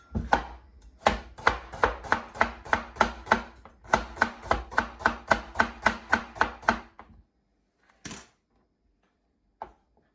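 A knife chops kimchi vegetables on a cutting board in a quick, even run of about fifteen crisp close strokes, a short pause mid-run, then silence broken by two isolated knocks.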